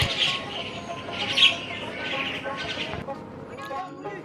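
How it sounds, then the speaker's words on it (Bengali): Birds chirp and call repeatedly in the open, fairly faint, with soft background noise around them. "পাখিরা আকাশে কলকাকলি করছে, গান গাচ্ছে। আসুন শুনি।"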